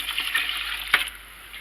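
Water pours into a pot of blueberries for homemade canning syrup, a short, steady splashing stream at close range with one brief louder gush, and no one speaking.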